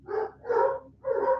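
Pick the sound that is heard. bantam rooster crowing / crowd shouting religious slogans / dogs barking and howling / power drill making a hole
dogs barking and howling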